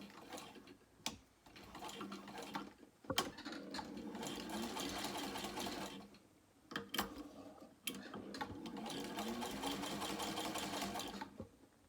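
A sewing machine stitching a box with an X through it on a small crossbody bag, running in close bursts separated by short pauses and sharp clicks as the fabric is turned.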